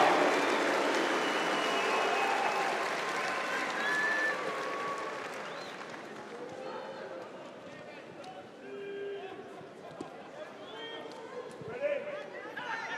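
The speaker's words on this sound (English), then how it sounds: "Please give a massive round of applause for the Moose, Mitchell Hooper." A large crowd at a strongman competition applauds and cheers loudly, the clapping gradually thinning, with an announcer talking over it.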